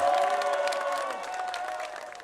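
Supporters cheer and applaud as Cho Kuk, former leader of the Rebuilding Korea Party, walks out, making a brief, continuous roar of crowd cheering.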